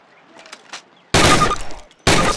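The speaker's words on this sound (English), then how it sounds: "Fire 3 more rounds at your target." Rifle rounds fired at a target in Call of Duty on a training range, heard as two loud, sharp bursts separated by a brief gap, each with a ringing decay, after a quiet, faint lead-in.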